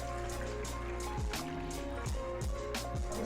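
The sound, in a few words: glass of water poured into chicken karahi pan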